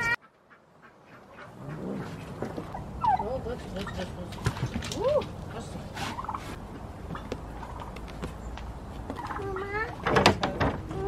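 A turkey gobbles repeatedly on a farmyard with geese, its rapid warbling calls rising over a busy background of other fowl chatter and occasional voices, loudest near the end.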